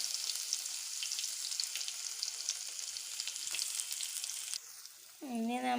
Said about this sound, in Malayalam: ഇനി നമുക്ക് ചേർക്കാം ഇഞ്ചി വെളുത്തുള്ളി പേസ്റ്റ്